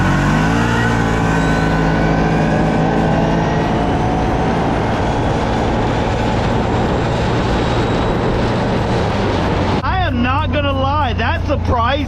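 A stock CFMoto 800 XC side-by-side pulls away from a standstill, its engine droning loudly and steadily climbing in pitch, with a voice talking over the run near the end.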